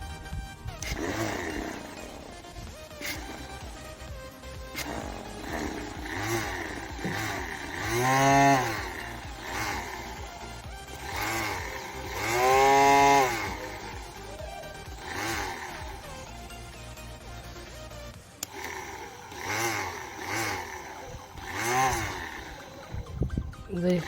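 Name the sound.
motor spinning homemade drill chuck attachment on test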